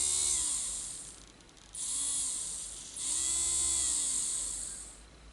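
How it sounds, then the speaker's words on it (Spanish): A small DC motor whines at close range, its pitch sliding down and up as the speed is dialed through a potentiometer. The whine breaks into three spans with short dips between them. "ahí tengo ya funcionando el motor"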